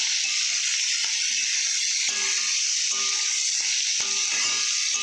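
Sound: taro (kachu) leaves frying in a pan

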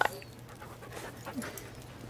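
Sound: sled dog Iggy panting while petted, from video game The Red Lantern

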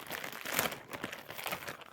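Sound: plastic packaging bag crinkling as it is opened

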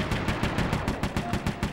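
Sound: turret gunfire on the grapple cam in video game Sly 3

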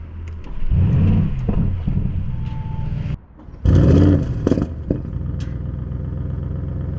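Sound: car engine starting with exhaust pop

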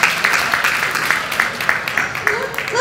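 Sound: audience applause at panel

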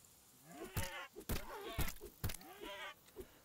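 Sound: boar in Dawn of Defiance video game

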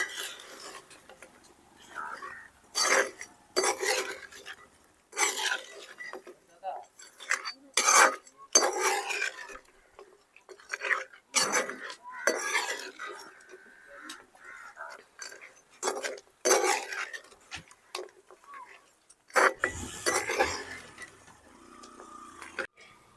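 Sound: mixing chicken pickle with lemon juice in a vessel

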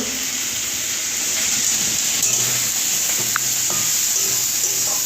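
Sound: onion frying with salt in a pan

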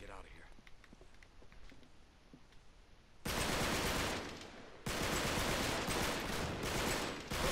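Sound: gunfire in the video game Uncharted

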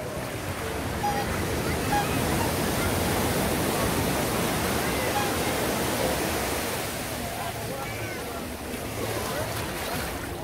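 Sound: sea waves at Prainha beach, Arraial do Cabo

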